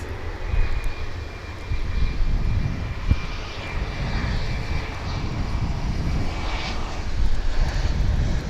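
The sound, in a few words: airplane at DFW International Airport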